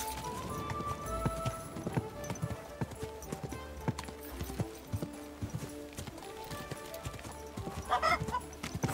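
Horse hooves clip-clopping at a walk in Kingdom Come Deliverance 2, distinct individual hoofbeats in an uneven rhythm over ambient game sound, with a brief whinny or snort near the end.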